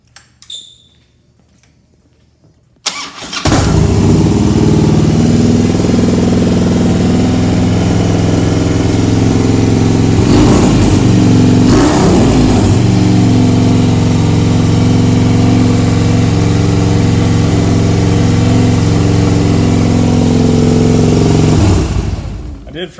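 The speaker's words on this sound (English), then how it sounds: "the bike just shifts strong up and down through all the gears, RPMs, everything sounds great." A 2007 Harley-Davidson Electra Glide FLHTCUI with about 11,000 miles and its air cleaner removed, starting up and idling at high RPM, a loud steady rumble that holds for some twenty seconds with a couple of brief revs partway through.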